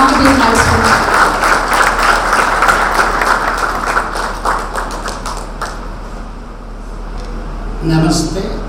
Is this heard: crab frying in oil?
no